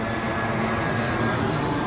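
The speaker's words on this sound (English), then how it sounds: "That is a plane." An airplane passes overhead, its engine roar steady and fairly loud for the whole stretch, heard alone.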